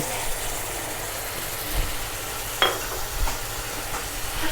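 Liver being stir-fried with oyster sauce sizzles steadily in a pan, with a low burner rumble underneath and a few sharp clanks of a utensil against the pan.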